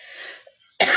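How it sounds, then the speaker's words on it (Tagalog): A single sharp cough bursts out near the end, close and loud, following a brief stretch of faint background sound. "talagang inuubo ako"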